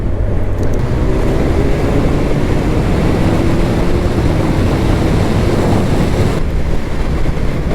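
Loud, steady roaring wind buffets past the rider of a 2025 Kawasaki Ninja 1100 SX sports tourer at road speed, a continuous broadband rush with engine drone beneath, no talking.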